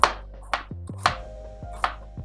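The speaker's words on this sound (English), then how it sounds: "let's start off with the onion. Okay, let's get this all chopped up." A knife chops an onion on a cutting board in a home kitchen: four or five sharp, close knocks at an uneven pace, with a faint low hum in the background and no voices.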